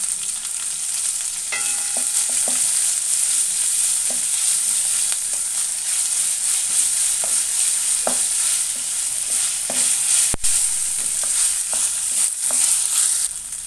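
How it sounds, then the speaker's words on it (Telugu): Ginger garlic paste fries steadily in a hot pan for an eggplant, chana dal and tomato curry, a dense continuous sizzle broken by scattered spatula scrapes and taps, with one sharp knock near the end. "అల్లం వెల్లుల్లి ముద్ద పచ్చివాసన పోయే వరకు కూడా వేసుకోవాలి."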